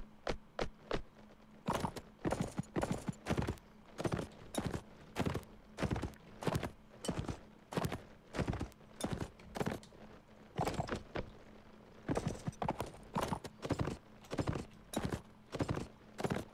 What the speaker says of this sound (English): So these look like horses up here.